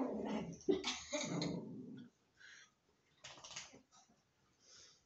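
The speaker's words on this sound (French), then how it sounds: "les chiens ont répondu" Small dogs yap and growl in a quick, busy burst, then quieter scattered barks and whimpers follow after a pause, heard at moderate distance without talk.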